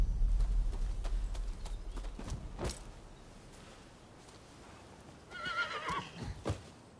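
Horse neighing and hoof clip-clops in the Rise of the Ronin video game, with a whinny rising mid-clip and faint hoofbeats over a low rumble, quiet and moderately close.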